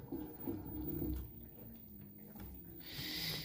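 Water rushes and gurgles into an LG F2V5GG9T front-loading washing machine as it fills on a quick 40° cycle, a close, fairly quiet hiss and splash that swells briefly near the end.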